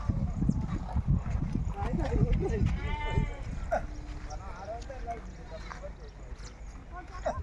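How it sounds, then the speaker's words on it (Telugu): A herd of goats penned in hilly country bleats in a few short, quavering calls at mid distance, with people talking over them and outdoor noise throughout. "మేకలు కూడా ఇదిగోండి, మేకలు మంద వేసారు ఇక్కడ."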